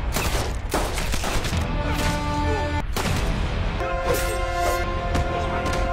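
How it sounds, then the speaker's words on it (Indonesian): Gunfire rings out in a prison revenge action film as a gang shoots down guards, with automatic rifle fire: dense, loud bursts of shots and crashes run continuously under a sustained musical score. "Baku tembak senjata menggema."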